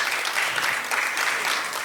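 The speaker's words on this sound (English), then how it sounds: "at Toastmasters, you clap until the person sits down" Conference audience applauding during a session, a dense, steady wash of many hands clapping that stays loud and even throughout.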